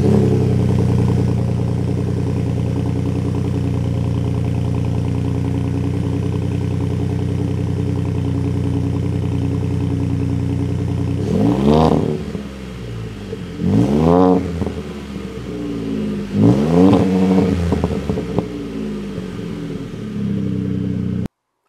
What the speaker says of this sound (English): this is the MBRP 4-inch cat-back exhaust